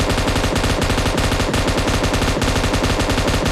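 Loud, rapid automatic gunfire from the battle royale game BGMI keeps up nonstop bursts of shots in quick, even succession throughout.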